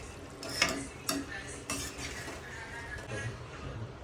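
Prawn masala stirred in a hot pan: a soft sizzle under repeated clinking and scraping strokes of a utensil against the pan, irregular and close, with no talking.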